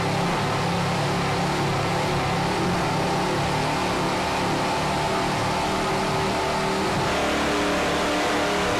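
Offshore powerboat racing engines, including Fountain boats such as Lucas Oil and Miccosukee Indian Gaming, roar steadily and loudly through the whole stretch, a dense continuous drone with no pauses.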